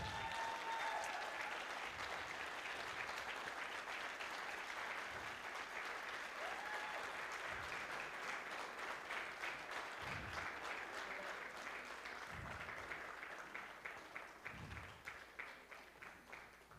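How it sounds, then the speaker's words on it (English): Congregation at a Sunday church service applauding to honor a member, a sustained, dense clapping from many people that stays strong for a long stretch, then thins into scattered claps as it winds down. "We can clap for her."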